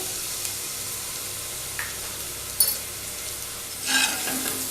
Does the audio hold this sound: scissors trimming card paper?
no